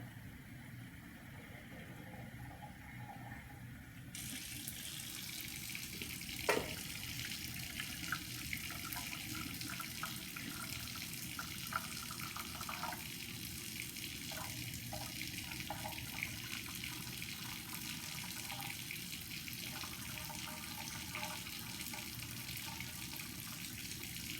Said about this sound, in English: So I'm going to be adding 500 grams of this water.